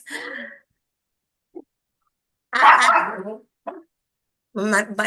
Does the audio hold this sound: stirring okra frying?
no